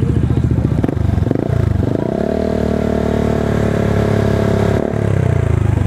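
A Honda ADV 160 scooter fitted with a PR2 exhaust revs loudly up close, going from a choppy idle burble into a rising, sustained rev, then dropping back, with no speech over it.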